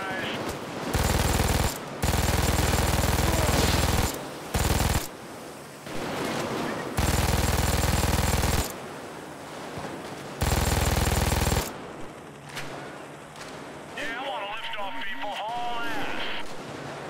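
Heavy machine gun fire in Payday 2 during a mall heist, long loud sustained bursts broken by short gaps, then a quieter stretch with other game sounds and voices.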